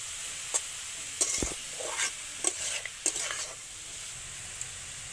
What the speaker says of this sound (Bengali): এইভাবে ভালো করে একটু ভেজে নেব।